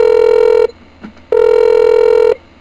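A loud, clear telephone tone sounds in two long bursts with a short gap between them while a call is placed to a hotel.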